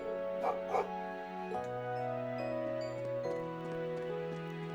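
Puppy in the video game Trails into Reverie giving two quick, short yips over soft sustained background music.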